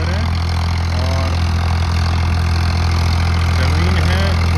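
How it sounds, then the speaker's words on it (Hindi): A Farmtrac 60 T20 Powermaxx tractor engine runs steadily up close, a loud continuous low rumble with no pauses and no talking over it. "आज आपके सामने है farm track 60 T20 power max series का ट्रैक्टर है।"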